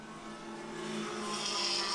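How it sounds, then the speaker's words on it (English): Porsche race cars speed down the straightaway in a Group 5 race at the 2014 O'Reilly Auto Parts Grand Prix, a distant, steady engine drone that swells slightly as they approach. "Looks like one of those Porsches is going to be able to overtake the other one for the lead."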